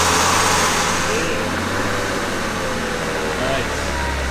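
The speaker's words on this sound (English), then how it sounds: "If this starts, it's amazing." A 1990s BMW E36 drift car's engine runs at a steady, rumbling idle close by, holding an even drone with slight wavering and no clear revs.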